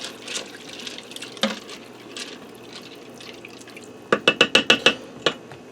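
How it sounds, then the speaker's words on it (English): Elbow macaroni in beef broth is stirred inside an Instant Pot, giving soft wet sloshing and scraping that ends in a quick run of about six sharp clinks as the spoon knocks the pot. "get that elbow macaroni stirred around in there"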